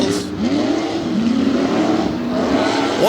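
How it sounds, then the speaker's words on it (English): An old racing truck's engine revs hard at a Tough Trucks Challenge qualifying session in Bloomsburg, Pennsylvania, its pitch climbing and falling in loud sweeps as the truck runs the course. "That is an old truck, still out here running hard."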